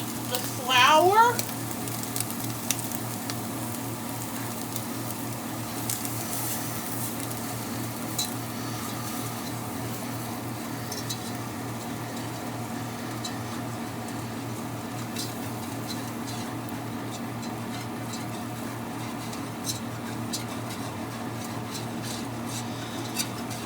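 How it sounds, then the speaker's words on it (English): A whisk works flour into a hot pan, producing a steady, close sizzle with light metallic taps and scraping strokes throughout. A voice is briefly heard near the start. "Then it says to whisk in the flour."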